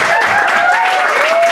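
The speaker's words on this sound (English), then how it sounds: "Have a big round of applause for our host here" Audience applause welcoming the host Judy at a Second City comedy showcase, a steady wash of clapping with some cheering tones running through it for the whole short stretch.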